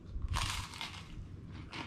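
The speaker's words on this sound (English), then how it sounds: "this guy with the Gruyere cheese, ready to go. Listen to what's crunch." Crunchy bites into a Gruyere grilled cheese sandwich, a couple of close, crackly crunches with broadband bursts, followed by quieter chewing.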